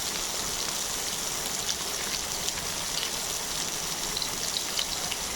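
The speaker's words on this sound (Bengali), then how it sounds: "আমি মাছটা ভেজে নিচ্ছি এবং কড়া করে ভেজে নেব সুন্দর করে।" Rohu fish pieces fry crisp in hot oil, giving an even, dense sizzling hiss that holds steady throughout with small crackling pops and no talk.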